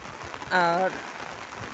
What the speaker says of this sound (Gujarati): આડો વરસાદ પડે છે